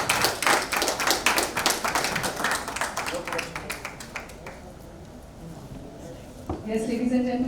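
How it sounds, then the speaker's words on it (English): Crowd at a teaser launch event in India claps for the filmmaker Vivek Agnihotri. Brisk, close clapping fades into a sparse patter, and a voice comes in near the end. "Can we have a huge round of applause for him?"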